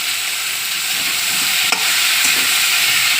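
Ginger fries in a pan while a rui fish curry is made. A loud, dense sizzle hisses continuously, and a single faint clink of a utensil breaks in midway.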